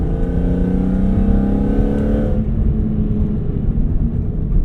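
BMW S54 inline-six fitted with a carbon fiber intake revving hard, a loud, rasping induction howl climbing and holding before the throttle closes and the tone drops to a deeper rumble.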